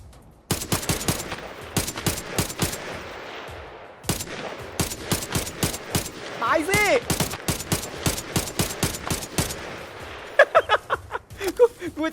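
Gunfire in Arena Breakout Infinite: loud bursts of close automatic shots in rapid rhythmic volleys, a full magazine emptied, with brief pauses between strings and someone talking over parts of it.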